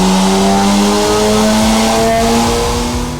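An AWD turbocharged Honda Civic on budget tyres makes a dyno pull, its engine holding a loud, steady high-rev drone with rising harmonics that fades slightly at the end, no voices.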